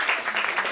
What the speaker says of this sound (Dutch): Applaus voor Saskia Leo